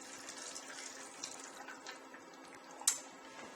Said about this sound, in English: you can take the remaining broth and pour it into the blender